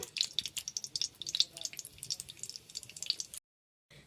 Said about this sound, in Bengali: এখানে আমি জিরা ফোড়নে দিয়ে দিচ্ছি।